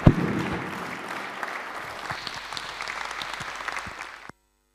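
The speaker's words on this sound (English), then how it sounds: "please give yourselves a very warm" Warm applause from a conference audience after a science panel discussion in South Africa, steady dense clapping that holds evenly for about four seconds and then cuts off abruptly.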